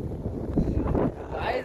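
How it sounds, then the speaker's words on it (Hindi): Gusty wind blowing outdoors, buffeting the microphone with a steady low rumble and rustle throughout, with a voice faintly mixed in. "मस्त हवा चल रही है"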